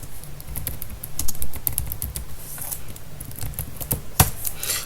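Typing on a computer keyboard while writing an alias file in Linux: steady, rapid clicking keystrokes with irregular rhythm, close and moderately loud, a few sharper taps standing out, no voices.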